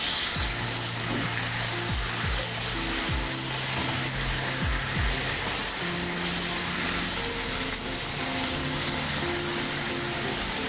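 Tomatoes sizzle and fry in a pan for chicken curry, a steady broadband hiss with occasional scraping knocks, fairly loud and close, with no talking.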